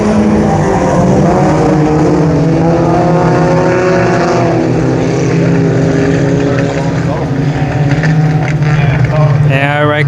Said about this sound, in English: 8 laps of distance, heat race number 2 underway.